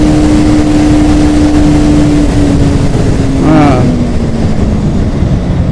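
Motorcycle engine held at full throttle on a highway test ride at about 128 km/h, a loud, sustained droning whine mixed with heavy wind rush, with a brief rising pitch shift midway.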